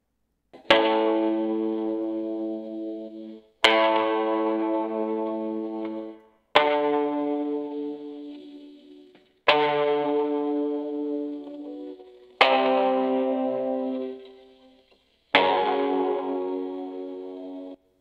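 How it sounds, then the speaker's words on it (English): A soloed AI-generated guitar stem from Moises AI: six separate strummed chords, each struck sharply and left to ring and decay with effects and reverb, spaced evenly and heard alone. "Now I'll solo the guitar to listen to it."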